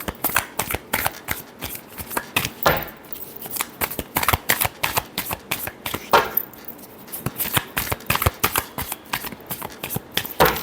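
Tarot cards are riffled and shuffled close up in a quick, continuous run of crisp flapping bursts that lasts the whole stretch, with no talk.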